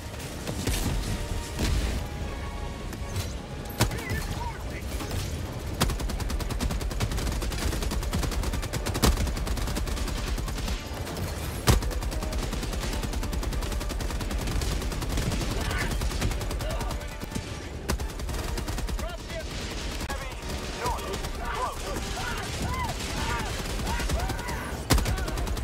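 Dense, sustained gunfire from a weapon in the video game Helldivers 2, continuous bursts and shots running nearly the whole time at steady loudness, with a voice talking intermittently over the shooting.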